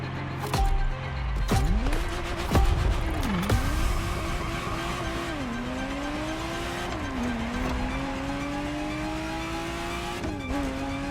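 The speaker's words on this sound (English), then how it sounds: "The Ferrari Testarossa was quite the celebrity in her time." A Ferrari Testarossa flat-12 roars through a racing game, revving hard with repeated gear shifts and rising pitch sweeps, tire squeal and sharp mechanical clunks cutting in, loud and continuous throughout with no talking.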